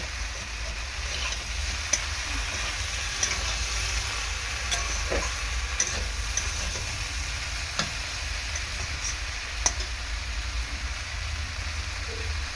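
Okra sautéed with spices in a pan, a dish cooked alongside prawns, gives a soft steady sizzle under a low hum, with occasional faint clicks of a spatula stirring.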